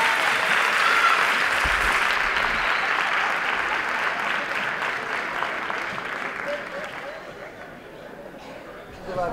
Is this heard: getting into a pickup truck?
no